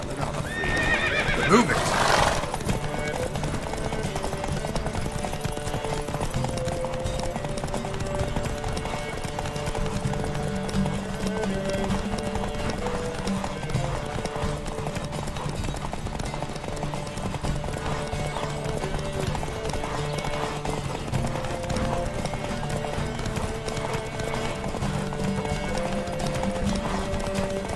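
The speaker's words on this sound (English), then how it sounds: "Don't spare the horse." Several horses in a The Witcher 3 race gallop in a dense, continuous thunder of hooves, with whinnies and a sharp burst near the start, and a voice calls out over the steady pounding.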